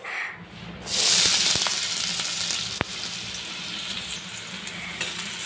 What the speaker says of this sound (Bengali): ম্যাগি করার জন্য আমি এখানে ডিমটা ভালো করে ভেজে নেব